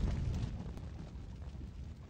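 A low, rumbling blast from a grenade fired in a video game rolls out briefly and fades, muffled and fairly quiet.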